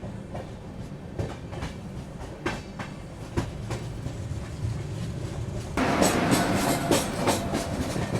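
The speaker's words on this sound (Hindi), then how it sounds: "राप्ती सागर सुपरफास्ट तिरुवनंतपुरम से चल के गोरखपुर को जाने वाली।" A Raptisagar Superfast Express train passes close by, a steady rumble and clickety-clack of wheels over rail joints that grows louder near the end as the coaches rush past.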